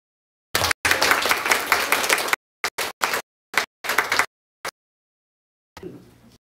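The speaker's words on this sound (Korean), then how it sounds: "큰 박수로 맞아주시면 감사하겠습니다" Bursts of audience applause at a senior welfare center presentation, one longer round followed by several short choppy bursts and a faint tail.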